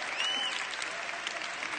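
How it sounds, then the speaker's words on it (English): A conference crowd claps in a steady, sustained burst, fairly distant and even throughout, with no talk on top. "Give her a big round of applause."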